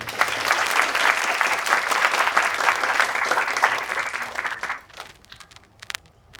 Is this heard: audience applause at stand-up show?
yes